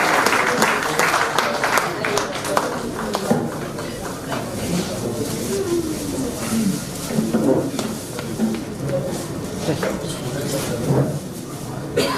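Guests at a school alumni meet keep up a long, steady round of applause at moderate loudness, with voices talking over the clapping throughout.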